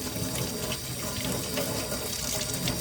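Tap water rinsing salt off a sea fishing reel, a steady, close rush of running water splashing over the reel without pause.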